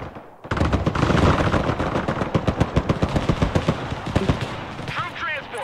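Dense artillery and machine-gun fire rumbles in the video game Broken Arrow, a continuous barrage of rapid bursts and heavy booms with someone talking over much of it.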